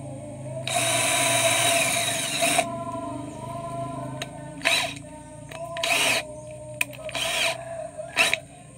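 A power drill with a 5 mm bit bores screw holes while a swing-type waste valve for a 2-inch hydraulic ram pump is being built. One long, steady whine runs for about two seconds, then several short close bursts follow.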